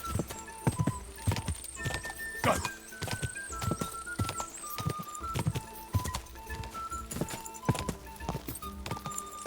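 Horse hooves pound in a steady galloping rhythm during a race in the medieval video game Kingdom Come: Deliverance 2, mixed with game music and background tones, while a voice occasionally speaks over it.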